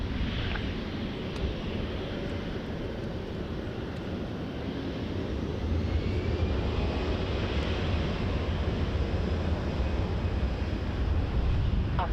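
A plane takes off from runway 24 right at Montréal-Trudeau airport, heard as a loud, broad, sustained roar that builds slightly over time, mixed with wind buffeting on the microphone. No voices.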